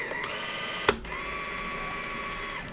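An Epson LW-600P Bluetooth label printer prints a label with a faint, steady mechanical whir and motor hum, punctuated by a sharp click near the start before the feed runs on and stops.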